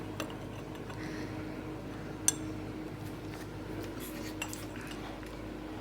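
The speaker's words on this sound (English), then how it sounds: "I'm adding 1 spoon of brown sugar, that's all." A spoon clinks against a cup while brown sugar is stirred into coffee, giving light scattered metallic ticks and one sharper clink, close and fairly quiet with no talk.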